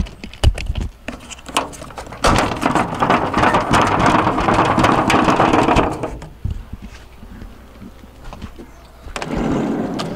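Steady rain hissing loudly for several seconds after a few sharp knocks and bumps, then fading to a quieter patter before swelling again.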